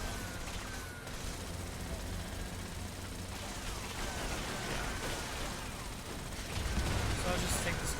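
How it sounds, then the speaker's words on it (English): Continuous rapid gunfire from a shooter video game, dense and unbroken over a steady wash of game noise, growing slightly louder near the end. "I'm just gonna shoot at him"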